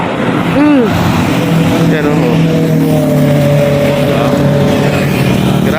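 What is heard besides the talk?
heavy road traffic on C6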